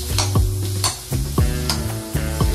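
Fish roe fries in a pan with onion and green chili while a utensil stirs it, giving a close sizzle broken by repeated scraping strokes in a loose rhythm.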